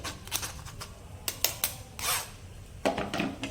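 Metal spoon pressing and scraping pulp through a metal strainer while making khandvi batter, giving intermittent clinks and rasping scrapes, close and fairly quiet.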